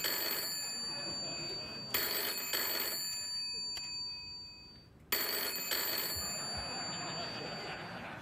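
An old-style telephone bell rings loudly in repeated bursts, with two long rings separated by a short pause in a late-night talk-show studio.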